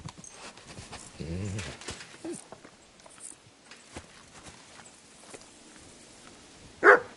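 A dog gives a few scattered barks amid footsteps and movement, with a louder bark near the end; a person speaks in between.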